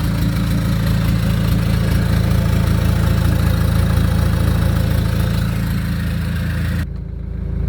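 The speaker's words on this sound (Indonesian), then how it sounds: "Ayo kita starter sebentar, suaranya kayak apa." Toyota Innova with a 2KD diesel engine idling after starting, a loud steady low rumble with a fine rattling texture heard close up, which cuts off abruptly near the end.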